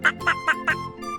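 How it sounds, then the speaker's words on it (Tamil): Four quick, nasal duck quacks in an even rhythm, close and clear, over a soft musical background. "வாத்து"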